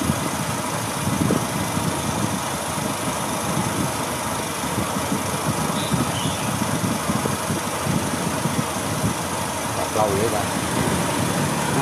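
A 2015 Honda Vision scooter with a fault that makes it hesitate, jerk or stall and keeps it under 50 km/h, idling at about 1400-1500 rpm, a close, steady, even engine drone that holds unchanged throughout.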